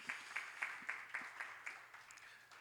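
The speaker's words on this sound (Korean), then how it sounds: "우리 하나님께 감사의 박수 함께 올려드리겠습니다" Congregation at a Sunday high-school church service claps in a steady, even rhythm of about four beats a second, faint and distant.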